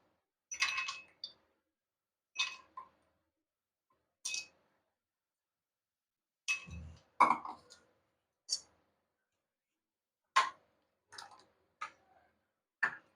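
Ice cubes dropped one after another into a glass of sweetened watermelon juice, giving a string of sharp, close clinks and taps spaced over several seconds with quiet gaps between them.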